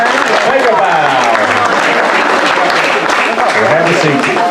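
An audience applauds for a young volunteer at a zoo animal show, a dense and fairly loud burst of clapping that runs steadily throughout, with voices talking over it.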